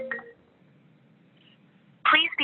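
A short telephone dialing beep as a medical office calling system places a call, heard briefly at the start before a quiet pause, then a voice begins speaking.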